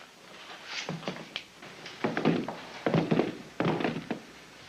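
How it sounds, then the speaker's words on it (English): Guns set down on a wooden bar in a 1960s western saloon make several dull thunks and knocks, spread irregularly over a few seconds amid low room noise. "Put your guns up on that bar."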